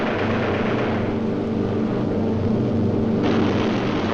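Engines of a B-17 Flying Fortress bomber in flight, a loud, continuous droning roar with a steady low hum that brightens slightly near the end, heard alone without talk.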